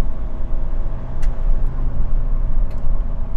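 A 2022 Mitsubishi Montero Sport Black Series with automatic transmission revs, its engine a loud, close, steady low drone with slight swells over a few seconds, heard from inside the moving car.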